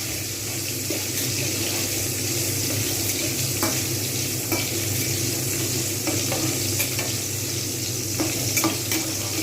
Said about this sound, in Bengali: টমেটোগুলো যতক্ষণ পর্যন্ত একটু না নরম হচ্ছে ততক্ষণ পর্যন্ত আমি কিন্তু এটা ভাজব